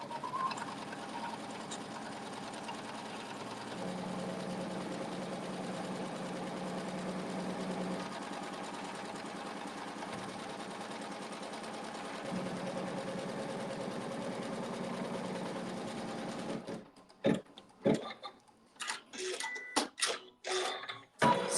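Sewing machine running a steady basting stitch around the perimeter of a quilt block, a continuous close mechanical whir for about seventeen seconds before stopping, followed by scattered clicks and handling noises.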